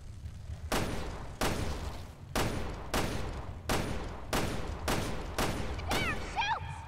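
Gunfire in the video game Resident Evil Revelations 2: a series of heavy shots or short bursts at a regular pace, about eight in seven seconds, with a brief voice-like chirp near the end.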